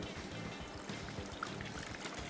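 Water being poured into a chicken sauce seasoned with chicken cube or powder, pepper, black pepper and salt makes a soft, steady trickling pour, quiet and continuous for a couple of seconds in a kitchen.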